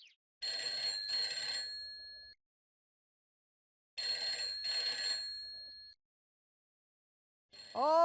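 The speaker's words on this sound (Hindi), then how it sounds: "फोन बज रहा था" A home landline telephone rings in two clear double-burst trills separated by silence, loud and close, followed by the start of another ring at the end.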